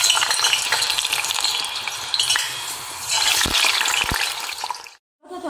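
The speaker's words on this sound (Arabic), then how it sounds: "توا باش نبدا نقلي." Potatoes half-frying in hot oil crackle and sizzle continuously, with occasional stirring clinks against the pan, before a brief drop to near silence near the end.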